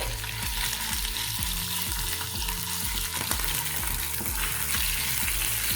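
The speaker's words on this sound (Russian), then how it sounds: "И в этот момент выкладываем мясо на сковородку." Pork hits a hot pan with frying garlic and sets up a loud, continuous sizzle, with a steady crackle and regular scraping stirs throughout and no voices.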